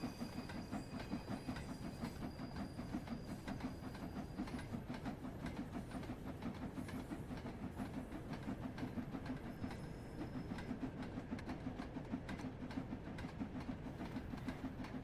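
Steam locomotive running in Train Sim World 3, a steady rhythmic chuff and clickety-clack of wheels over rail joints with hiss, continuous and fairly close, no talking.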